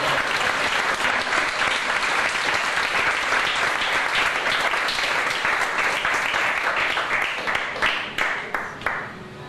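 A church congregation bursts into sustained loud applause, many hands clapping together in a dense roar that thins out into scattered final claps.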